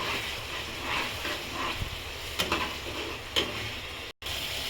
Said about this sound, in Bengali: মশলাটা ভালো মতো কষিয়ে এবার ছোলার ডালটা ঢেলে দেব।